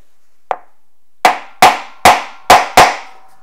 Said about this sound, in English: the way this is machined by hammering on it